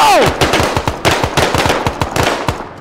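Rapid automatic gunfire rattles in the ArmA III video game's Vietnam War campaign, a close, loud burst of evenly spaced shots running almost without pause.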